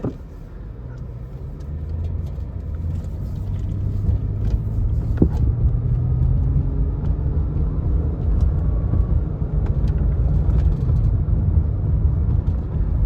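A 2010 Lexus ES 350 cruises on the road, heard from inside the cabin as a steady low rumble of engine and tyre noise, with faint small rattles and clicks scattered over it and no talking.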